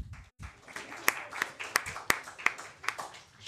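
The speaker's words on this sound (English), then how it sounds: "I also want to reserve some claps" Audience clapping at a mayoral candidates forum: a short burst of sparse, separate hand claps from a small crowd, with sharp individual claps standing out over a murmuring background.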